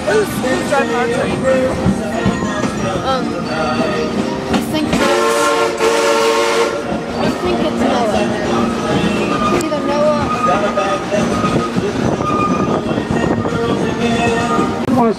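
A steam sing-along excursion train rolls along loudly with continuous rumbling and rail clatter, and a long horn blast sounds in the middle, while passengers' voices and singing carry over the noise.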